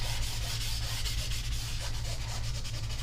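Continuous close scrubbing of an ink pad rubbed against the edges of a paper card for a melted snowman design, a dry, steady abrasive swish with a faint low hum beneath and no talking.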